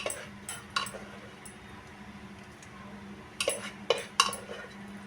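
A cooked chana and cauliflower-stem vegetable dish is taken out of a pressure cooker, with light metallic clinks and taps of utensils coming in scattered bursts over a quiet room background.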